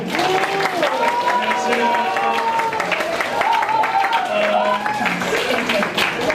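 An audience at a KBS talent-sharing volunteer group's performance at the Anyang Suri disability welfare center applauds to welcome the center's director, steady clapping running under a voice that talks over it.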